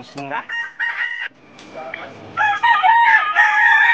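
A rooster crows loudly and close by, a long strained call with clucking from other chickens mixed in.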